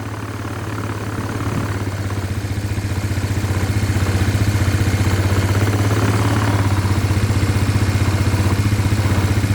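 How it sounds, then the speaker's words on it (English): A smoky Suzuki Ozark 250 quad idles close by, a steady low throbbing putter that swells slightly in loudness early on and then holds even, with no voices. "It is idling reasonably well"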